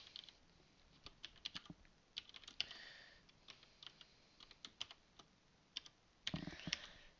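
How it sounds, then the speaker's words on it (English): Typing on a computer keyboard ticks along steadily in short, irregular runs of close, soft clicks, with a denser clatter near the end and no talking. "I'll type it out."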